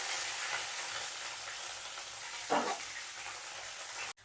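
Ginger paste frying in oil with salt for dal: a soft, even sizzle with a brief stir or scrape midway, fairly faint and alone before cutting off.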